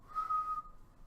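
Someone whistles to imitate a Weenie Whistle toy whistle, giving one short, thin, steady tone that is quiet and close, with no talking during it.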